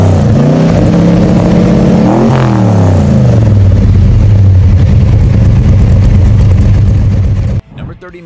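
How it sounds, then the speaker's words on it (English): A Ford Falcon with a 351 V8 and four-barrel carburetor rumbles low through its exhaust, the engine note swelling and sweeping in pitch as it revs, then cutting off abruptly near the end. "hearing the sound of all that power rumbling through its pipes"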